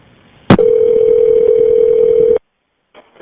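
A click, then a loud steady electronic telephone tone on a 911 emergency call, held for about two seconds before cutting off, followed by a faint brief noise.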